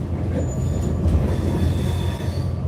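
A train rumbling steadily along the rails while changing tracks onto the Port Dock railway line, with a thin metallic squeal from the wheels riding over the low, continuous rolling noise.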